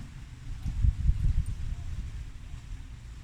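Wind gusting over a terrace with a koinobori carp streamer flapping in it, a steady low rushing rumble that swells briefly and then settles, close to the microphone and heard alone.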